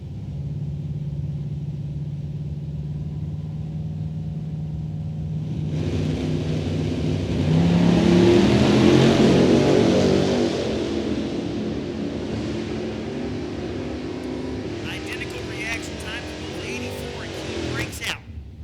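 Drag racing at a Sportsnational Open event, with a Chevy II and a Camaro lined up in their lanes; loud engine roar swells midway and sustains under continuous announcer commentary.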